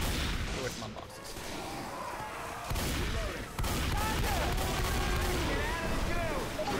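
Dense, continuous gunfire from the zombie shooter game Left 4 Dead 2, loud and close, with rapid overlapping shots and bursts that barely pause across the whole stretch. Voices seem to be mixed in beneath the shooting.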